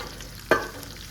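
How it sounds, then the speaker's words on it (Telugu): Mustard, cumin and fenugreek seeds frying in a pan of hot oil give one sharp, close crackle over a low, steady background hiss. "రాయ కూడా వేగుతున్నాయి."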